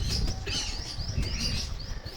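Pigeons kept for sale at a house: soft chirps and faint cooing, with the odd rustle of wings, carry steadily at moderate distance through a low ambient hum.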